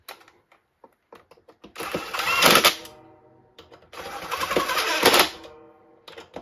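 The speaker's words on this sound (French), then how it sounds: "moi je les serre rapidement à la machine" Power tool quickly tightening the bolts on a motorcycle engine casing in a cross pattern, two loud ratcheting bursts of about a second each, separated by quiet pauses with small clicks and handling noises.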